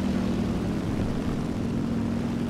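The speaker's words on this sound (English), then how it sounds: "shittiest plane in the game" A propeller plane in a video game gives a steady, continuous engine drone with a constant humming tone, loud and unbroken throughout.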